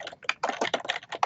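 Quick bursts of close keystrokes on a computer keyboard while typing a paper in Microsoft Word, with a brisk, uneven patter of about a dozen clicks in just over a second.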